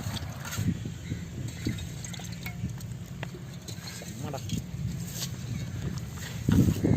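Live snails being kneaded and stirred by hand with salt and water give off close, wet squelching and clicking shells in a steady churning rhythm, with some murmured background sound.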